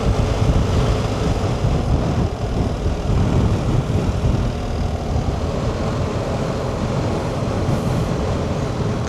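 Strong, steady wind roars past a motorcycle rider on a countryside road among rice fields in Japan. The low, constant buffeting fills the whole clip without a break.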